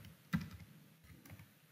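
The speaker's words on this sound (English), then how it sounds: "we are typing in our text first text field" Typing on a computer keyboard while entering text into a form field, a few quiet scattered key clicks with one sharper tap near the start, close and alone with no talk.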